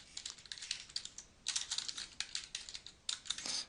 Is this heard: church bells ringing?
no